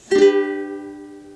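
One quick strum of a chord on a ukulele, close and clear, its bright notes sustaining and fading gradually.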